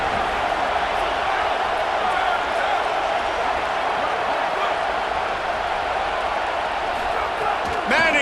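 A big college football stadium crowd roars at Texas vs Texas A&M, a dense sustained wash of cheering that swells slightly near the end, with an announcer's voice likely mixed in.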